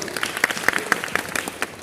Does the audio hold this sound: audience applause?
yes